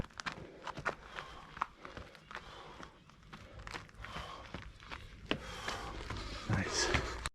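A runner's footsteps pound uphill on a mountain trail, a steady series of quick, fairly close footfalls with varying weight, alone without speech, ending in a louder scuffle.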